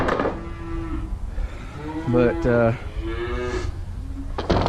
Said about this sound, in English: The calves are hungry.